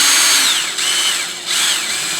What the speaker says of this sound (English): So you'll need your drill with your 1/16 inch drill bit